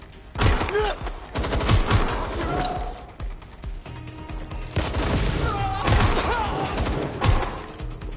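Heavy gunfire in the action game Watch Dogs Legion: loud, sustained volleys and repeated bursts fill the scene from start to finish, with occasional voices and explosive thumps mixed in.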